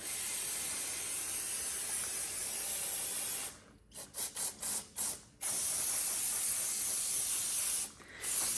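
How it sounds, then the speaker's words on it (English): An aerosol can of brake parts cleaner sprays onto Brembo brake calipers of a 2013 Tesla Model S in a long loud hiss, stops for a few short bursts, then sprays again continuously, with one brief pause near the end. "I'm going to spray brake parts cleaner liberally all over this."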